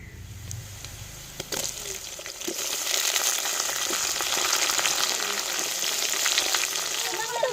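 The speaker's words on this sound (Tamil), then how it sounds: "தக்காளி முருங்கைக்காய் கத்திரிக்காய் உருளைக்கிழங்கு எல்லாத்தையும் இந்த எண்ணெயிலே வதக்கி எடுத்துக்கிறோம்" Tomato, drumstick, eggplant and potato sizzle and crackle steadily in hot oil, with occasional stirring clatter; the frying grows louder and fills the background without speech.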